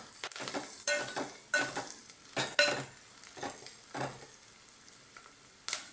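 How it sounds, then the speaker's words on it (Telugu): Gongura dried prawn curry frying in a pan, with repeated bursts of sizzling and scraping as it is stirred, rising and falling in a loose rhythm, close and moderately loud. "ఇట్లా బాగా ఫ్రై అయిపోవాలండి"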